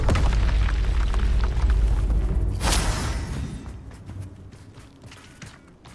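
A loud Expelliarmus spell cast in the video game Hogwarts Legacy, a booming magical blast with a sharp burst near the middle and rumbling low end that fades over several seconds.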